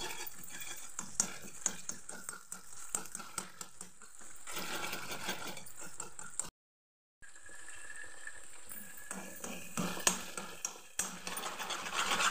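Chilli paste for Schezwan sauce fries in oil over high heat, with close sizzling and repeated scraping strokes of a spoon against the pan, broken by one short silent gap.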